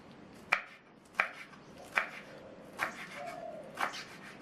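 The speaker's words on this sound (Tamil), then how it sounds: "2-3 தடவை அலசி வச்ச கீரையை கொஞ்சம் கொஞ்சமாக எடுத்து கட் பண்ணிக்கலாம்" Washed manathakkali greens being chopped with a knife: five distinct, fairly sharp chops at roughly even intervals against a board, close by, with quiet room noise in between.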